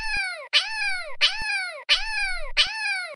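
Five meows come in steady succession, each a bright, falling cartoon-style cat cry, loud and close with brief gaps between them.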